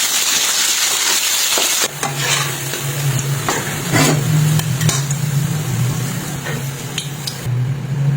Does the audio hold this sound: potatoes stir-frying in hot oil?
yes